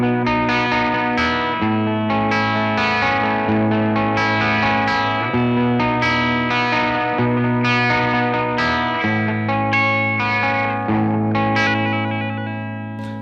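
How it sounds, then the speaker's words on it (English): Clean electric guitar on a Spira V-420 playing chords and arpeggios through a tube amp with a warm tone, ringing notes and light shimmer, steady and up close with no voices. "Let's start off with a clean sound, just so you can get a flavour of what the pickups are like."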